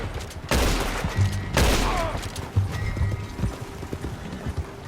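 Two loud, sharp gunshots from the video game Red Dead Redemption 2 ring out close together, amid horse hoofbeats and faint ambient game sound.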